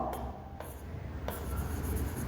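Someone writes out a triangle definition by hand during a Class 9 maths lesson, producing soft scratchy strokes with a few sharper ticks, faint against a low background hum.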